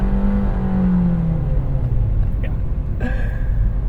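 A 2023 Nissan Versa accelerates with a steady, close engine drone and rising tone, with a brief interior clunk near the end.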